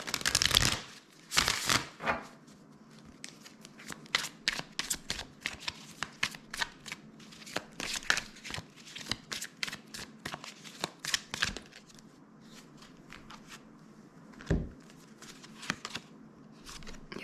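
A tarot card deck shuffled by hand in repeated crisp riffling bursts, with quieter pauses between rounds and a single sharp shuffle near the end.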